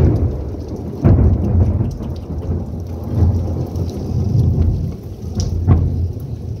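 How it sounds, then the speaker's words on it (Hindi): Heavy rain pours steadily while deep thunder rumbles and cracks nearby, with several loud booms rolling through the downpour. "जो बारिश है ना वो देख कितनी बिजली हो रही है, आवाज़ें भी इतनी आ रही है।"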